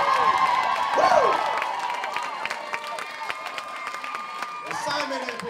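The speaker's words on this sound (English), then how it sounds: "please just give him a giant applause, guys" Theatre audience at the Magic Mike London opening night erupts in applause and cheering, scattered claps with whoops and shouts swelling loudly at the start and again near the end, voices calling out over it.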